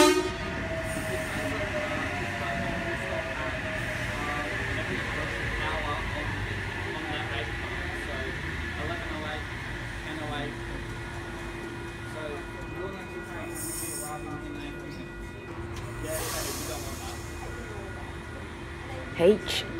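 A passenger train departs Koolewong station toward Hamilton, with a steady rumble of wheels and motors, a long horn tone, and occasional squeals, heard from the platform at moderate loudness.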